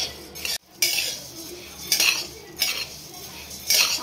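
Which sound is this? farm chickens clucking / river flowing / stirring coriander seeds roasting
stirring coriander seeds roasting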